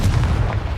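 A Confringo spell blast explodes in Hogwarts Legacy, a single loud, close, boomy burst with heavy low rumble that fills the whole short moment, no voices.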